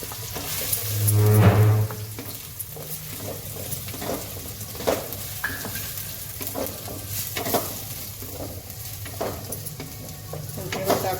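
Chillies, ginger and onion fry in a pan as they are stirred, a steady close sizzle with scraping strokes and an occasional clink of the utensil against the metal, and no talking.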